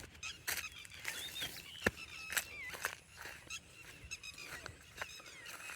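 Birds in an open natural setting, likely geese or similar fowl, give repeated honking calls at irregular intervals, some near and loud, others softer, over quiet outdoor ambience.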